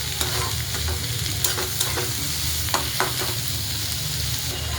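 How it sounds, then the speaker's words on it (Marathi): Chopped onion sizzles steadily in hot oil with cumin and mustard seeds for tomato chutney, a close, continuous frying hiss broken by soft stirring scrapes. "आता कांदा टाकून घेऊया. तेलामध्ये आणि जिरे मोहरीमध्ये एकजीव करून घेऊया."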